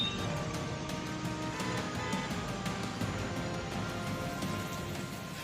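Heavy rain falling in Delhi NCR, a dense, steady patter of drops on surfaces, continuous and fairly close with no voices.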